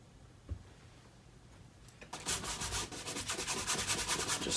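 A brush scrubs oil paint with little thinner onto a primed canvas: quiet at first, then steady rough rasping strokes in a fast back-and-forth rhythm, close and fairly loud, with no talk.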